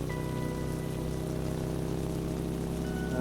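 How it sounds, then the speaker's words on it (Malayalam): A heavy tropical downpour near the Kappimala waterfalls hammers down in a dense, continuous roar of rain on surfaces, loud and unbroken with no voices. "മഴ എന്ന് പറഞ്ഞാൽ നല്ല ഒരു ഒന്നൊന്നര മഴയാണ് കോരിച്ചൊരിയാണ്"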